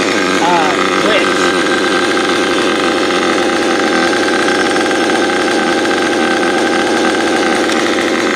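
Reds R5R nitro engine in a Mugen MBX5 RC buggy idling rich, a steady buzzy drone held loud and close throughout, with a voice talking over it.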